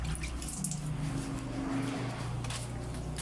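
Water applied while cleaning an object, a continuous trickle with light drips and splashes at moderate level, with no speech.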